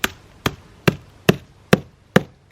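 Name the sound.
hammer smashing pine cones on stone or concrete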